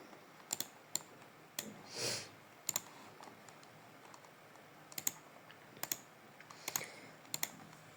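Someone typing on a computer keyboard, entering a reference list heading in a Word document: scattered quiet key clicks in short irregular bursts, with a soft breath or sniff partway through, close and faint.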